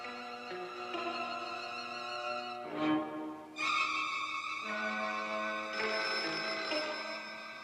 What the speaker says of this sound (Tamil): sir telephone